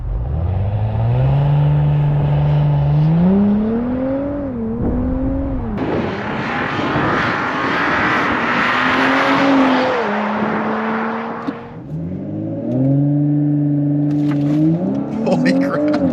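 A Stage 1 tuned Audi B9 S4 on 91 octane launches hard and accelerates, the engine note climbing through several rising sweeps broken by abrupt, hard gear shifts, loud and close throughout.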